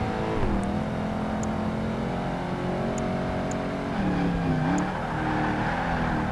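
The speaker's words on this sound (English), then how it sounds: "This is all full throttle part." A muscle car in the racing game Project Gotham Racing 2 holds full throttle with a loud, sustained engine drone, its pitch dipping and climbing as it shifts gears, with no talk over it.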